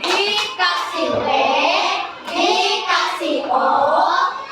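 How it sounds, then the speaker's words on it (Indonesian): A group of schoolchildren in a classroom chants a rhythmic clapping cheer, their voices loud and close in steady repeated phrases with hand claps mixed in. "beri tepuk wow dong untuk kelompok 5"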